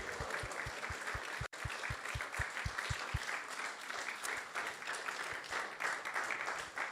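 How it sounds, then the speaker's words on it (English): Devotees at a Krishna temple gathering applaud the teams and volunteers: continuous, moderately distant crowd clapping with steady, regular low drum-like thumps underneath for the first half. "let's give a big round of applause to all the teams and the volunteers"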